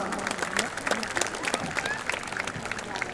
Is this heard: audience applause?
yes